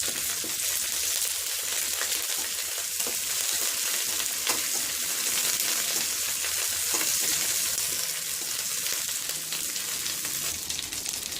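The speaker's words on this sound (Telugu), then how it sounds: "నూనె వేడెక్కాక ఇప్పుడు మనం కరివేపాకు వేసుకున్నామండి" Washed curry leaves fry in hot oil, filling the air with a steady, close, crackling sizzle that holds evenly throughout, with no voices over it.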